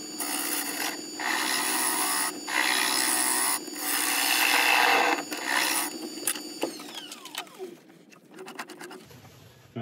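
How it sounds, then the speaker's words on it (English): Sandpaper rubbing horse chestnut wood spinning on a lathe, a harsh raspy hiss in several long passes separated by short breaks, then the lathe whining down as it slows to a stop. "we'll put a recess in and we'll start sanding"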